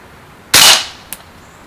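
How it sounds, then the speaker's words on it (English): A Winchester 1977XS air gun fires a pellet at a can: one loud, sharp crack with a quick decay, followed about half a second later by a fainter metallic hit. "We're going to shoot towards the middle of the can."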